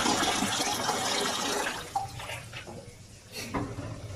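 Water pours steadily into a cooking pot, about two liters for boiling half a kilo of spaghetti, making a continuous rushing, splashing fill that lasts throughout at moderate loudness.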